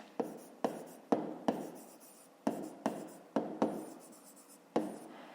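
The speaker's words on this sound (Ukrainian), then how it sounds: "пишемо тоді пояснення" Chalk or pen strikes and scratches while writing out a fifth-grade math problem explanation, about a dozen sharp taps each trailing into a brief scrape, close and distinct in a quiet room.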